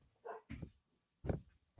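Leo, a pet dog, lets out a few short, fairly close barks and yips with pauses between them.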